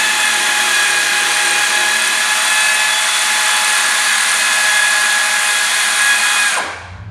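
A power driver fitted with a 9/16 socket spins the rear leaf-spring shackle nut off an EZGO TXT golf cart, a loud, steady high-pitched whir lasting several seconds before it cuts out.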